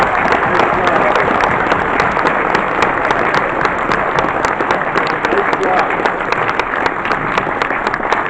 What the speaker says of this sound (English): a round of applause for bidder 8644